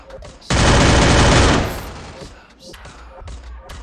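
A loud, dense burst of automatic gunfire from the battle-royale game Free Fire lasts about a second, then fades as excited voices talk over quieter game sounds.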